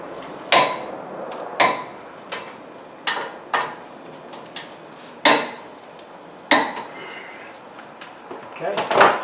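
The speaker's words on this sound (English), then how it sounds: "the caliper mounting bracket, it's 221 foot-pounds, so I'm just going to tighten those up real quick" Caliper mounting bracket bolts being torqued on a 2007 Chevy Silverado's front brakes: a series of sharp metallic clicks and clunks spaced about a second apart, close and fairly loud, with a faster cluster at the end.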